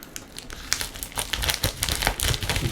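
Crinkling plastic as a heavy shipping package of silver coins is cut open with sharp scissors, a run of close, irregular crackles and snips that grow busier and louder over a few seconds.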